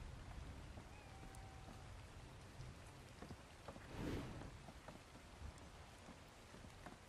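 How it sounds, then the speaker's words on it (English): Steady rain from the video game ARK falls throughout, a dense, even hiss with a faint low rumble near the middle, with no voices over it. "And of course it starts raining when I'm leaving."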